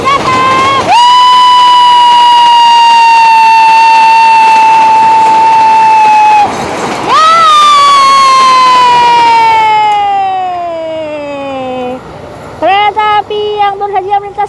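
A passing Ranggajati passenger train sounds long, loud horn blasts whose pitch sags as it goes by, with a brief gap between blasts and a few shorter toots at the end.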